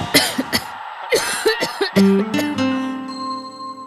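Coughing from a person in a Benadryl cough syrup advertisement: a series of close, loud, harsh coughs in the first second and a half, then a chiming tone that rings out alone to the end.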